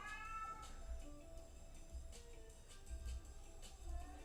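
A cat meows repeatedly, several drawn-out, fairly quiet cries spaced about a second apart over a low steady background hum, with no talking.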